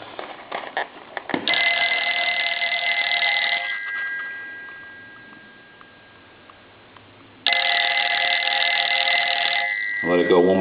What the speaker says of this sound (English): I'm going to go ahead and ring the telephone.